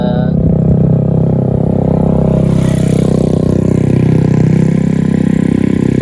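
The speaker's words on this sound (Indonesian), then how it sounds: "maaf kalau suaranya agak berisik ya om, karena kita review di pinggir jalan" Loud, continuous roadside traffic with motorcycles passing close by, engines droning and revving in a dense, steady wash of noise with no pause.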